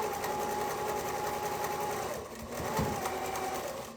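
A sewing machine stitching pieces of a Polaris quilt block, a fast steady mechanical whir heard up close that briefly slows and then resumes.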